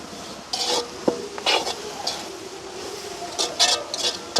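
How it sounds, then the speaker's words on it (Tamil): Egg kothu being stirred with salt in a pan in a village kitchen: repeated metal scraping and clinking strokes of a utensil against the pan, irregular and fairly close, with faint sizzling underneath. "அதே மாதிரி இப்படியே நல்ல வடிவாக கலந்து விடுவோம்."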